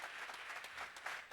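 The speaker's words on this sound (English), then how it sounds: "Big round of applause for the Mud House for putting out some coffee today." Debate audience applauding to thank the Mud House for supplying coffee: a steady wash of many hands clapping, fairly distant and soft, continuing for just over a second without pause.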